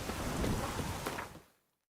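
Heavy rain falls in The Witcher video game, a dense, close wash of downpour with a soft rumble beneath, fading quickly to silence at the end.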